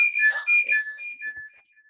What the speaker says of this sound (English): Maybe turn your cell phone down the volume a little bit.